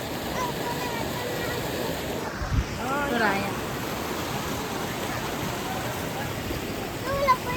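A river flows with a steady, broad rushing wash that continues throughout, while people talk nearby.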